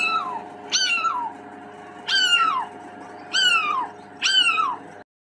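A cat meows four times, close and clear, each call a drawn-out falling cry separated by short pauses, with a faint hum behind and no talking.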